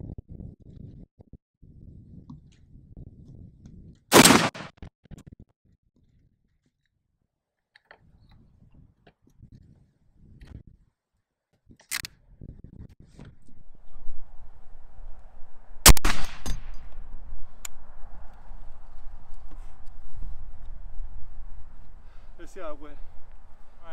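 A suppressed Barrett M107A1 fires subsonic .50 BMG ball ammunition at a target about 50 yards away. A few loud, sharp, isolated reports are spaced seconds apart, with a person talking in between and a low steady hum later on.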